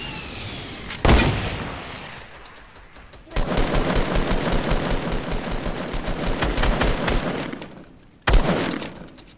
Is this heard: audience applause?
no